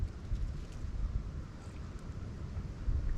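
Steady outdoor wind rumbles and buffets the microphone at a truck campsite under partly blue skies, a continuous low roar with gusts swelling at the start and end, no one speaking.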